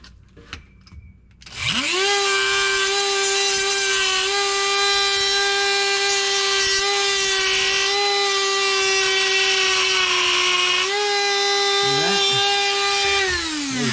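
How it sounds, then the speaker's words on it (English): A Dremel rotary tool grinds off the pointed ends of screws in the wheel well of a 1961 VW Beetle, a loud sustained high whine that holds steady for about ten seconds before a brief dip and resumption. "I'm just gonna Dremel off the end of these screws so that it's not pointy in my wheel well"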